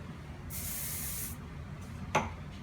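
A single steady hiss of an aerosol hairspray lasts about a second, followed by a brief faint puff and a small tap.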